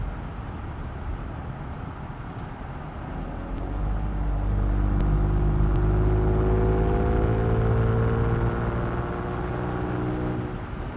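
A Ford Explorer ST with an aftermarket downpipe revs in sport mode, its exhaust rising from a low rumble into a loud, sustained drone that holds high and steady, close by.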